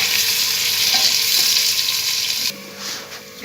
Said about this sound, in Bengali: আমি এবার পেঁয়াজগুলো ব্রাউন করে ভাজবো।